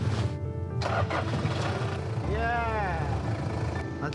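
A car left in extreme cold cranks and then fires up after being heated, its engine catching and settling into a rumbling idle while a rising whine sweeps upward. Voices talk over it.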